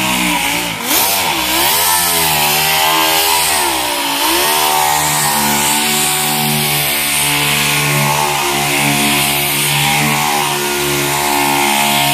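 An orbital polisher applies paint sealant to a car's paint, giving a loud, steady electric motor whine at constant speed that drones without a break for the whole stretch, with no talking.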